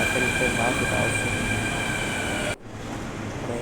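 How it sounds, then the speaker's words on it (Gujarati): A train arrives at a station platform with a steady, loud rumble and hum of rolling wagons that drops abruptly partway through, leaving a softer rushing noise, with voices mixed into the scene. "અને હવે બીજી ટ્રેન પણ આવી ગઈ છે."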